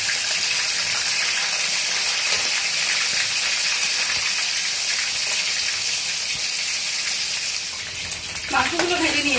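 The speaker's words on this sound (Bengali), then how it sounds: "কড়াইতে তেল গরম করেছি, মাংসগুলোকে" Chicken pieces frying in hot oil in a wok, a steady, dense sizzle that holds loud and even for most of the clip, then eases near the end as a brief utensil clink and a short voice cut in.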